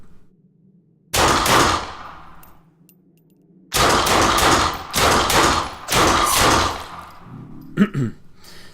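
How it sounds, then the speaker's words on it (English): Bursts of gunfire in the post-apocalyptic Western game Fallen Earth, a couple of seconds of rapid shots, a pause, then a longer run of loud volleys in clusters, with a brief sharp click near the end. "And let's do some shooting."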